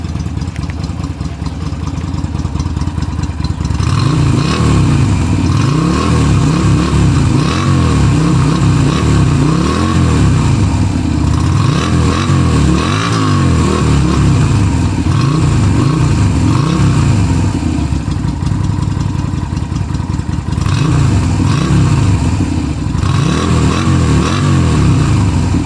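A Yamaha Virago 250 motorcycle with stock exhaust revs hard again and again, loud and close, with a throaty exhaust rising and falling in pitch over a continuous rumble.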